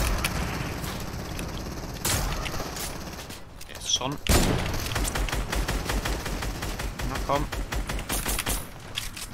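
Rapid bursts of gunfire from a proximity grenade launcher in the video game Fortnite, with loud repeated shots and booms, and a player talking over the action.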